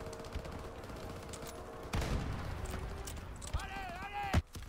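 Gunfire in the World War II shooter Call of Duty WWII, with sharp shots and bursts scattered among steady game background sounds and some tonal effects.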